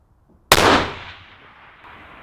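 A single long-range rifle shot fired with factory ammunition cracks sharply and loudly, then rolls away in a fading outdoor echo over about a second and a half.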